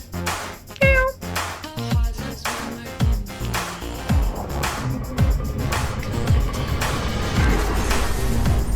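A cartoonish cat meows several times inside a dating sim game, short bright mewing calls over steady game music with rhythmic low thumps, all fairly loud and continuous with no voices.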